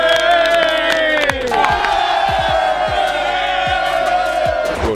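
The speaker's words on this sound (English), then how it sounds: "can we have a round of applause for Bobby?" A lively crowd at a youth league event shouts and cheers loudly and continuously, whoops rising over a dense wall of voices with a few sharper thumps mixed in.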